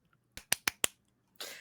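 Three sharp claps in quick even succession, close and crisp in a quiet room, followed by a brief rustle.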